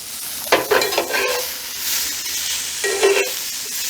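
Green bell peppers, orange peppers and onions cook in a pan outdoors, giving a bright, steady sizzle broken by two louder bursts of stirring and scraping, heard up close with no talk.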